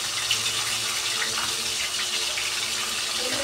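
Water runs steadily for a few seconds, poured into a cooking pot with no talk over it.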